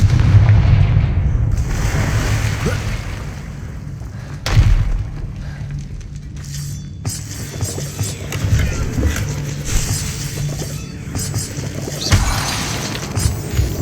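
A Confringo fire spell blasts in the Hogwarts Legacy video game, a loud booming impact with crackling, shattering debris and a second thump a few seconds later over a low rumbling game soundscape.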